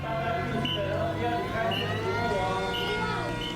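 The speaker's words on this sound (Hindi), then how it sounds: "सायरन बज रहे हैं।" Air raid sirens wail over Taipei amid fears of a missile attack, a steady, loud, continuous sound with rising and falling tones and nothing else in the mix.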